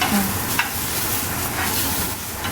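Raw mango pieces sautéing in a pan, a loud steady sizzle with scraping stirs at a close distance.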